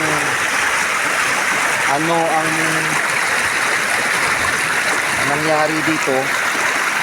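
Floodwater from a swollen river rushes steadily as a broad, loud roar throughout, while someone speaks over it in a few short bursts.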